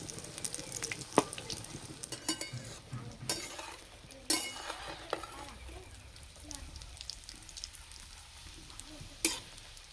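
Semolina pitha made with egg fry in oil with a quiet, continuous bubbling sizzle, broken by occasional clinks and scrapes of a utensil against the pan, fairly faint and without talk.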